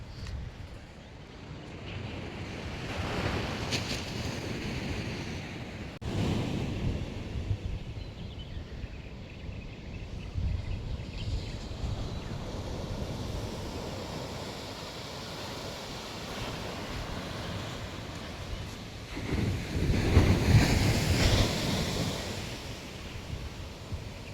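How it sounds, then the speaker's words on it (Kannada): Ocean waves on a beach during a morning walk: a steady, broad roar of surf with wind buffeting the microphone, swelling into louder surges twice. No talking. "ಅಲೆಗಳ ಅಬ್ಬರ"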